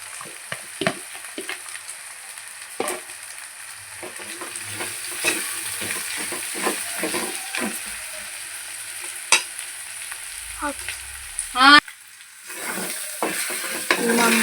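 Fish curry is stirred and fried in oil: irregular scrapes and knocks of a spoon in the pan ring out over a soft, steady sizzle, with one sharp sweeping scrape near the end.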